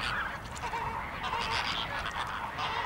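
Flamingos at a nesting site call in a dense, continuous chorus of nasal, goose-like honks from a large flock, loud and unbroken with no voices.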